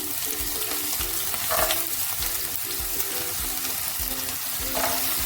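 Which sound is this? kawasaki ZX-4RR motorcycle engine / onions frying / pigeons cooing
onions frying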